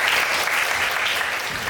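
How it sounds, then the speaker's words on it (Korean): An audience claps steadily to welcome a lecturer at a university lecture event, a brief burst of dense applause with no speech. "박수로 맞이해 주세요."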